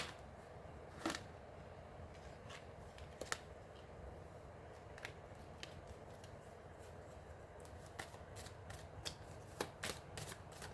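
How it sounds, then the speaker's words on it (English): Tarot cards being shuffled by hand, a steady papery riffling and sliding that continues throughout, with sharper card snaps now and then, close and moderately quiet, no voice. "y'all see me shuffling these cards."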